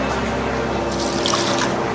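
Water drains from a sugarcane juicer machine's line into a waste outlet with a continuous trickling, gurgling flow, close by and fairly loud, without pauses.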